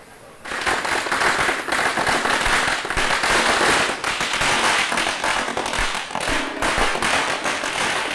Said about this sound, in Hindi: पटाखे जलाओ।